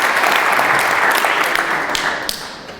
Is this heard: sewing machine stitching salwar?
no